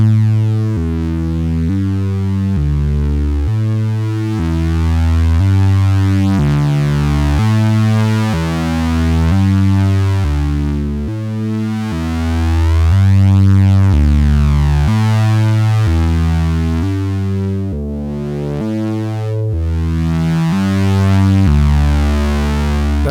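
A stomping bass patch on a Moog Matriarch analog synthesizer plays a steady, loud riff of repeated rich, buzzy low notes with bright overtones, continuing without pause and heard alone.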